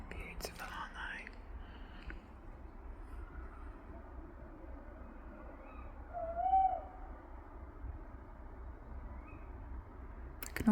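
At night a lone owl gives one soft, distant hoot midway through a long stretch of low hiss, while a person whispers quietly close by.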